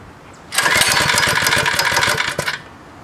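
A 3HP four-stroke motorized bike engine sputters and catches briefly as it tries to start, giving a loud, close burst of rapid firing for about two seconds that then dies away.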